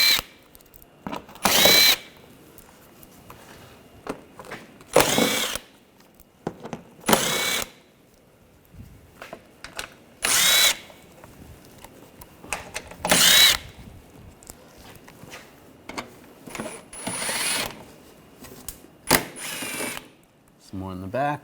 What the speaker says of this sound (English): Using a 8mm socket, we want to take these screws out.